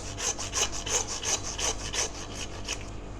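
A butcher's saw cuts through a lamb shoulder bone at a farm shop, with about a dozen quick, even rasping strokes, loud and close, and no talking.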